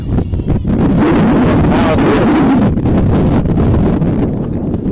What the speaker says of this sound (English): I'm guessing at times this wind is gusting upwards of 25 miles an hour.